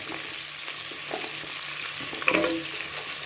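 Mixed vegetables with drumstick sautéing in a pan for sambar make a low, steady sizzle, broken by light stirring scrapes and one sharper clink of a utensil near the end, with no talking.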